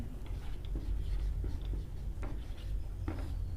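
Faint scratchy strokes of writing on a board come in short separate bursts over a low background hum, irregular and fairly quiet.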